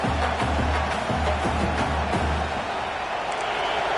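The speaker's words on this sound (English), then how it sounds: "It's early, but this crowd is fired up. Listen to this noise here." Roaring crowd noise in a football video game stadium, a steady broadband wash of cheering with low rhythmic thumping early on, loud and continuous with no clear speech.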